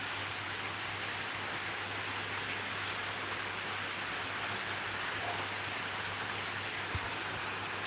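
Steady rain falls in a broad, even wash of noise, moderately loud and unbroken, with a low hum beneath and one brief knock near the end.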